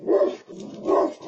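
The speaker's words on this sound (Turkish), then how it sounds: "Gece vakti bir evin güvenlik kamerasına yansıyan bu görüntülerde köpeğin havladığını duymak mümkün." A dog gives two short barks at night, close and fairly loud, with a brief pause between them, heard through a home security camera.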